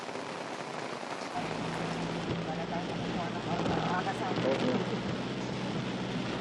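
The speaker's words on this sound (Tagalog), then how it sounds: "Wala na halos makita sa mga kalsada sa lakas ng ulan at kapal ng hamog." Heavy, steady rain pours over Baguio City in Benguet, a dense continuous hiss of downpour on surfaces with a low rumble underneath, growing fuller after the first second and staying loud throughout.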